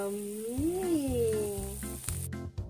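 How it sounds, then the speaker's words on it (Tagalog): Chicken tinola soup bubbling in a pot, a steady low simmering rumble with hissy sizzle and a rising-and-falling tonal whine near the start, loud and close with no talking. "Kumukulo na siya, guys. Kumukulo na."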